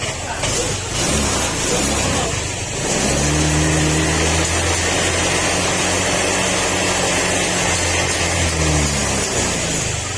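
A Honda Click 125 scooter with an overheating coolant problem idles loudly and steadily on its center stand to warm up, the engine drone continuous and close, with a brief rev or shift in pitch early on.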